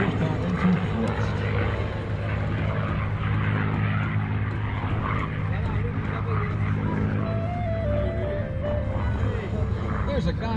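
Red Nose P-51D Mustang propeller warbird with a Rolls-Royce Merlin engine at the Dover AFB open house airshow, its droning engine and prop rumble steady and fairly loud under a commentator's voice on the public address.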